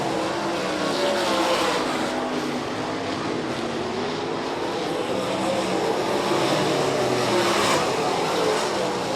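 Sprint cars of the MSTS 360 sprint class race through turns three and four at Rapid Speedway in Rock Rapids, engines roaring loud and continuous with no pause as the pack sweeps past.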